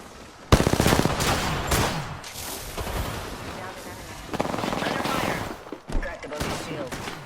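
Rapid bursts of automatic gunfire ring out in an Apex Legends match, loud and close with dense fusillades broken by short pauses, while a player's voice talks over the shooting.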